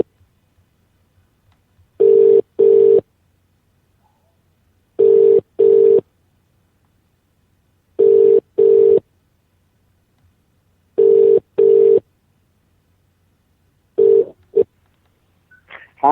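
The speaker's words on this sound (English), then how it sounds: "I'm phoning it now." An outgoing phone call rings back in loud, steady double pulses, a pair of tones repeating about every three seconds, five rings in all, with nothing else heard in the silences between them.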